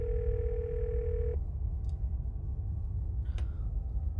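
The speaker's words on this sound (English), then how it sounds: "You can hear something drop violently in the other end, and then a dial tone." In the video game Scarlet Hollow, a steady telephone dial tone hums over low background ambience before cutting off abruptly, followed by a faint click.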